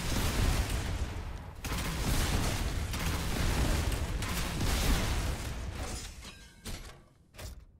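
Burst Quad Launcher rockets fire in Fortnite, a dense stretch of booming launches and explosions running continuously before fading, followed by a couple of sharp bursts near the end.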